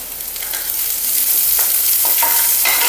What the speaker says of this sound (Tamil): வெங்காயம் வந்து வதங்கின பிறகு நம்ம வந்து பூண்டு போட்டுடலாம்